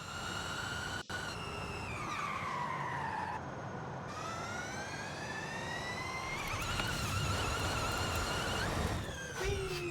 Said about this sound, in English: Yes, we're driving a Mach-E for this.